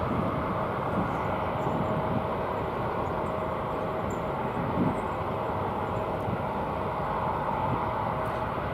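An Airbus A321 airliner at Dallas/Fort Worth airport makes a steady, distant broadband jet roar that holds an even level throughout, with no voices.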